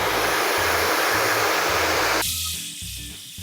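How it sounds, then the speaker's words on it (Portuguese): A hair dryer blows steadily while a brush styles the hair, a loud broad rushing hiss that abruptly drops to a lower setting partway through, with no talking. "o uso do secador e da escova"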